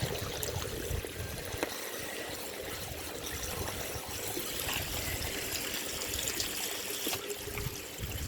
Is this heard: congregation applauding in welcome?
no